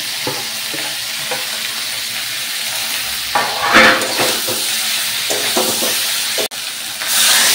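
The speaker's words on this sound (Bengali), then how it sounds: "শুধুমাত্র ধনে, জিরে, শুকনো লঙ্কার গুঁড়ো, টমেটো, আদা বাটা এই তো থাকবে, দিয়ে ভালো করে কষিয়ে টষিয়ে রান্নাটা করে নেবো" Paneer curry frying in a pan with ground coriander, cumin, dried chilli powder, tomato and ginger paste, giving a steady close sizzle and hiss broken by several scraping stirs and clatters of a spoon against the pan.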